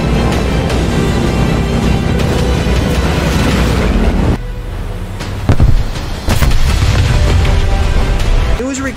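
Huge bombs dropped by Lancaster bombers detonate on self-propelled anti-air vehicles in a war game, producing loud, sustained rumbling blasts that roll on continuously. Sharper impacts punctuate the rumble before it briefly dips and then surges again.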